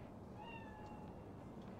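A faint cat meow rises briefly from a dense, noisy background hum in Cyberpunk 2077, a single thin, distant cry.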